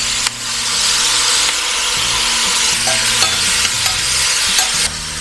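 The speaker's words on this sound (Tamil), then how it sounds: "கடுகு பொரியுது" Mustard seeds crackle and splutter steadily in hot oil while dal and sambar for a Tamil vegetarian feast are being made, a dense close sizzle with small pops that runs continuously and without talk.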